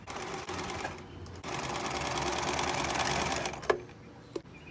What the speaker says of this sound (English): Now you're ready to start sewing.